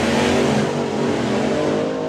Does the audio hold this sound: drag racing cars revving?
yes